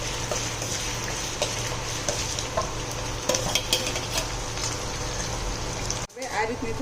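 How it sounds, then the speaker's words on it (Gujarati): Onions with a little asafoetida sauté in a pan, cooked until lightly pink, giving a steady close sizzle with occasional clinks of a stirring spoon. A voice talks over it before a brief break. "ડુંગળીને આપણે થોડી ગુલાબી થાય એવી સાંતળી લેવાની છે."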